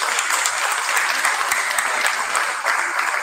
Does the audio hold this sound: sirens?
no